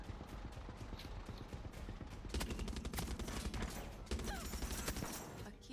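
Rapid bursts of weapon fire in a co-op first-person shooter video game, dense repeated shots that grow louder and busier partway through, with no talk over them.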